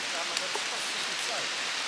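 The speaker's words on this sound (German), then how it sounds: "Und jetzt fängt es richtig stark an zu regnen." Heavy rain pours down outdoors in a steady, dense hiss that fills the whole moment, with no clear breaks in the downpour.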